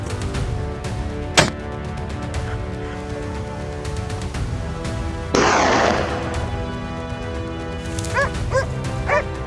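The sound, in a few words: hunting hounds barking at wild boar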